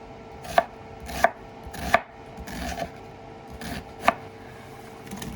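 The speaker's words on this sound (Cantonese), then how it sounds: "洋葱咧就切細粒" An onion is chopped into small dice with a knife on a board, with about half a dozen sharp, evenly spaced cutting thuds close by and no talking.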